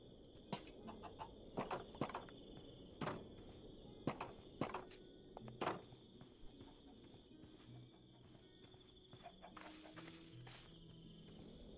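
Chickens cluck in the video game Minecraft, a few short soft calls and scattered hoof-like taps coming and going over a faint steady background, with no talking.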